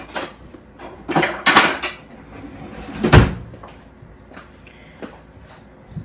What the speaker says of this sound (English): I'm gonna cut a little slice and show you guys what it looks like on the inside.